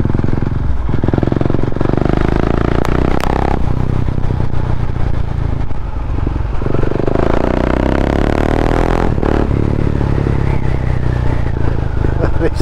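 Husqvarna Vitpilen 701 motorcycle engine droning steadily while riding on a country road near a town, loud and continuous with gear changes, under a rider talking.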